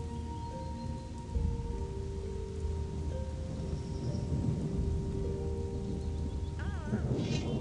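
Rain and thunder in the video game Gothic 2 form a continuous hiss of falling rain with low rolling rumbles. Faint sustained tones and a brief warbling sound ride above the storm.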